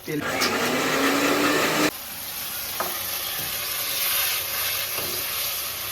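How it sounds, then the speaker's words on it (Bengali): Fish frying in a pan: a loud, close, hissing sizzle for the first two seconds that then drops to a quieter steady crackle with a few clinks, while a voice talks. "এখন দেখো আমার মাছ ভাজা প্রায় হয়ে গেছে"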